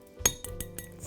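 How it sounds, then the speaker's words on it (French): A small fork beats an egg yolk in a bowl, making a few quick, light metallic clinks close by, with no talking. "à l'aide d'une petite fourchette, vous allez venir fouetter le jaune d'œuf comme ça"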